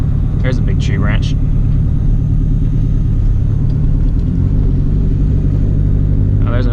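A 2015 Subaru STI car drives along a slick canyon road strewn with tree branches, its steady, loud engine and road rumble continuing throughout, with a few brief higher sounds near the start and end.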